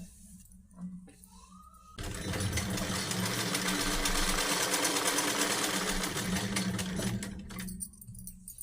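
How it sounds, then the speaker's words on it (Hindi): A sewing machine stitches the side seam of a salwar in one continuous, fairly close whirring run of about five seconds, framed by quieter handling sounds before and after. "तो आइए हम इस पे सिलाई लगा लेते हैं"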